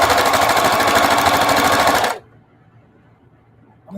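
A sewing machine with a walking foot stitches a quilt in a loud, fast, steady rattling burst for about two seconds, then stops abruptly into near silence.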